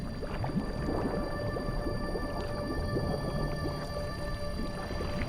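A humpback whale calls underwater in the open ocean, with wavering moans and squeaky, gurgling tones that continue at moderate loudness over a constant hiss of sea noise, and no one speaks.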